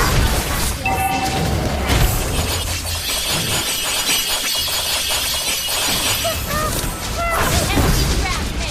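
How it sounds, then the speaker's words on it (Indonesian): Turret destruction in Mobile Legends, a loud crashing shatter of breaking structure amid dense battle noise, with sharp glassy bursts and game chimes layered over continuous combat clatter. "Our turret has been destroyed."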